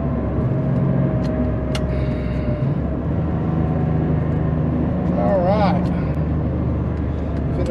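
Porsche Carrera 3.2 driving, engine rumbling steadily from inside the car with a brief rising rev partway through, while a person talks over it.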